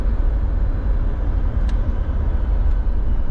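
Steady road rumble and tire noise from inside a 2003 Land Rover Discovery SE SUV moving at about 60 mph, fairly loud and continuous with no talking.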